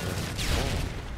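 Sustained automatic gunfire rattles in a Modern Warfare 3 team deathmatch on the Foundation map, aimed at destroying a turret, a brief, continuous burst of shots at moderate loudness without talk.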